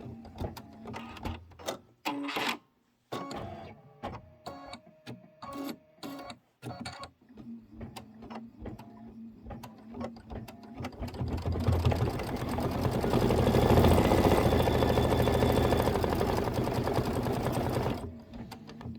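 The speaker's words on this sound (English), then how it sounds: "We're going to stitch out the apple stems, and then we're going to stitch the bucket handle grip fill." An embroidery sewing machine stitches apple stems and a bucket handle grip fill on an autumn design: close rapid needle taps in uneven short bursts at first, then a long, steady, louder whirring run of dense stitching.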